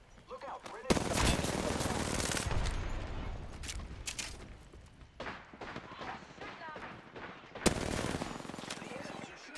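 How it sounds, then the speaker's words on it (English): Enemy gunfire in Apex Legends pours out in dense, loud automatic bursts, a sustained rattling fusillade with heavy impacts and a short lull before another burst, while a voice talks over it. "The enemies are shooting at me."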